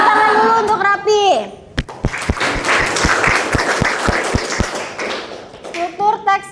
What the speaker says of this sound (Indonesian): Tepuk tangan dulu untuk Rapi.